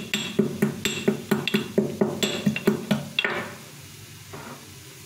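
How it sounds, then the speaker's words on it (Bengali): Black peppercorns are pounded in a mortar and pestle, with about a dozen sharp, ringing strikes in a quick, steady rhythm before the pounding stops and the room falls quiet. "এগুলো গুঁড়ো করে নেব আমল দিস্তায়"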